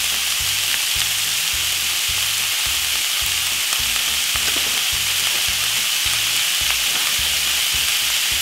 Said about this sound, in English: you're gonna brown up your meat. Add a little bit of paprika.